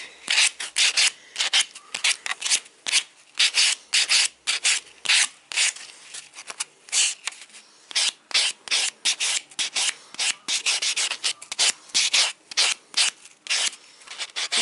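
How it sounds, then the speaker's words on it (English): A buffing block is worked over an acrylic nail overlay in quick, rhythmic back-and-forth strokes. The raspy rubbing comes in short repeated bursts with brief pauses, close and steady, with no voices. "My nail a really good buff sand."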